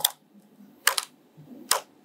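Three short bursts of keystrokes on a computer keyboard, close and fairly crisp, separated by quiet pauses.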